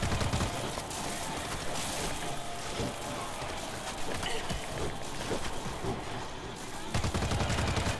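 Dense gunfire in the zombie shooter World War Z, a continuous crackle of rapid shots under a noisy, steady background wash with no talk.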